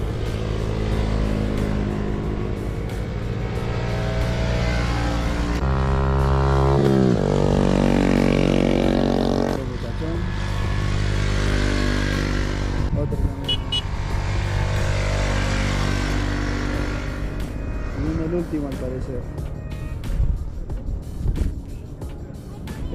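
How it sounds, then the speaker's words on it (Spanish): Several motorcycles pass close by, engines rising to a loud roar and fading, with steady traffic rumble throughout. "Ahí vienen unos amigos, un grupo de motos."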